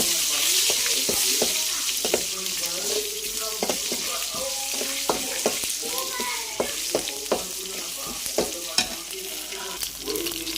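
Curry leaves, mustard seeds and cumin seeds frying in oil in a kadai, a steady loud sizzle with sharp popping crackles scattered throughout and no voices.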